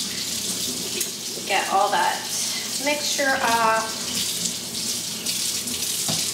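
Tap water runs steadily from a faucet into a sink while makeup brushes are rinsed clean of cleansing mixture, a continuous close splashing stream with someone speaking briefly over it.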